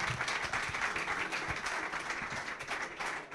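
Audience applause at a futsal awards ceremony, a steady wash of clapping from a crowd with no voices over it.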